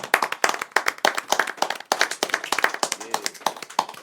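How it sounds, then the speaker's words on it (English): A small group on a podcast claps for a guest, close, uneven hand claps in quick irregular bursts with a brief gap near two seconds, while voices murmur underneath. "Hand clap for my nigga Millyz, man."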